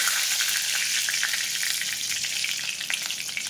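Mustard and cumin seeds crackling in hot oil in a pan, a dense, steady, close sizzle with rapid tiny pops throughout and no speech.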